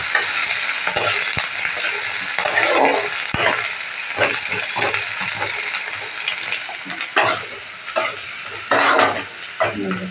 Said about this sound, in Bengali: এবার আমার পেঁয়াজটাও ভাজা হয়ে আসছে।